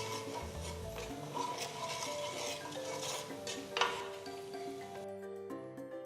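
Chopped onions seasoned with salt, pepper and cumin powder stirred in a pan for Mexican rice, a soft continuous scraping and rubbing close by, with faint background tones and no talking.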